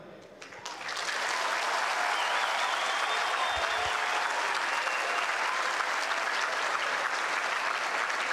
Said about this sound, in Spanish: Gracias, gracias por esos aplausos.